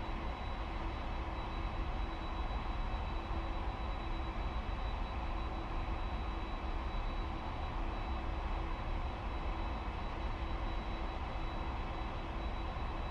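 Jet engines of a PMDG 747 spooling up during a cold-and-dark start in a Prepar3D flight simulator, a steady, loud broadband roar with a sustained whine, unbroken and without voices.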